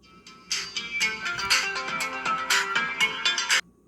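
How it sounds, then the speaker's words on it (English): A phone ringtone sounds for an incoming message: a bright, melodic run of chiming tones, close and clear, that plays for about three seconds and then stops abruptly. "I had a phone message"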